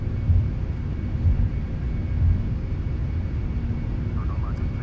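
Reverse thrust roar from a PMDG Boeing 747-400F cargo jet landing in a flight simulator, a steady broad rumble with a few heavier pulses, continuous and fairly loud.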